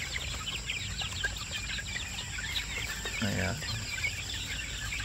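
A brooder full of more than 1,200 newly hatched chicks keeps up a dense, steady chorus of high peeping, with someone speaking briefly over it.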